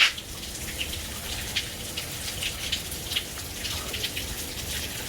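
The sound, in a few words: water dripping, leaking from the roof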